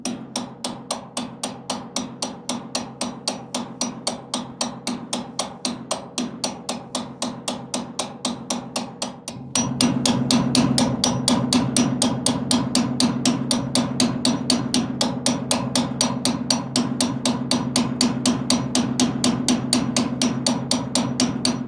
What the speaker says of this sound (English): I've been smacking on this thing for a while